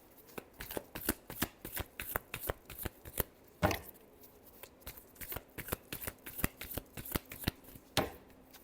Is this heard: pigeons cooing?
no